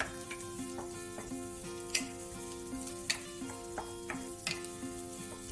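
Garlic toasting in a hot pan until crisp gives a steady oil sizzle with scattered sharp ticks and pops, close and fairly quiet, with no voices.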